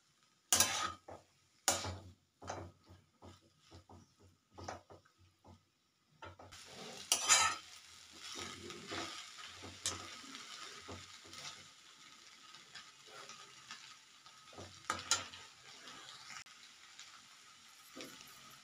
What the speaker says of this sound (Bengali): ভালোভাবে নাড়াচাড়া করে এবারে চাউলের সঙ্গে সব কিছুকে মিশিয়ে নিচ্ছি।